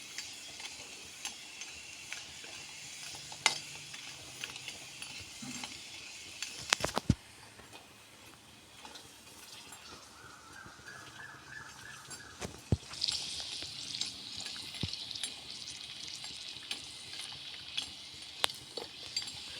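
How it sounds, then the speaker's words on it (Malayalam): Asafoetida roasts in a pan for a lemon pickle, with a soft continuous sizzle, scraping stirs and scattered metallic clinks of a spoon against the pan throughout, and no voices. "ഞാൻ കായം വറുത്ത് കോരിയുണ്ട്."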